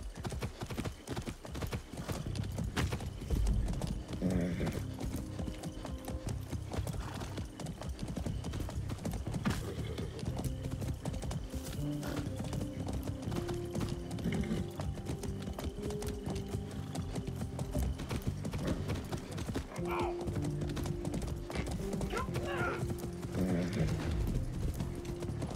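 Horse hooves clip-clop steadily on the ground in the Far Cry 6 video game, with an occasional neigh and whinny breaking through, the rhythmic steps continuing close and clear over a low background of game ambience.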